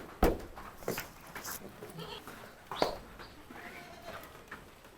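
Goats grazing in light drizzle bleat a few times in short, fairly close calls, with light background noise and some talk nearby.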